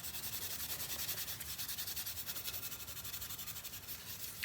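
Steady rubbing scrub on the grimy arm of an early-1900s Stanley No. 45 plane, cleaned with WD-40, repeats in a close, even rhythm throughout with no talk.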